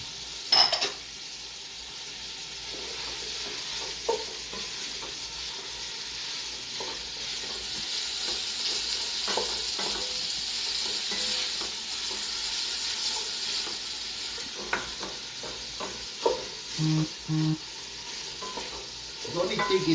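Chopped celery fries in a pot for a French lentil soup with sausage, giving a steady, close sizzle. A utensil stirs and clinks against the pot now and then.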